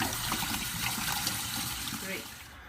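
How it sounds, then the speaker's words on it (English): Tap water runs steadily into a sink while mustard cabbage is washed, a constant close splashing rush that continues through the whole moment, with a voice speaking over it. "you have to keep it in running water for at least 30 minutes"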